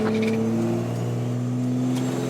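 Diesel truck with compound turbos accelerating at about quarter throttle, a steady close engine drone with rising tones, heard from inside the cab with no talking.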